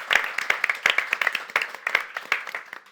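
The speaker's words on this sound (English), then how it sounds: "I'd like to give a round of applause to both to our panel and to Beatrice for hosting" A conference audience applauds a panel, with dense, steady hand clapping of moderate loudness that continues throughout without any talking.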